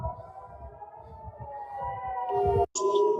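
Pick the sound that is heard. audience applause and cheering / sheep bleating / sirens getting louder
sirens getting louder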